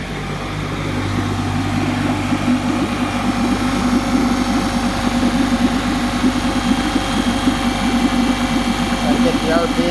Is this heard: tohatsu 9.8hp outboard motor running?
yes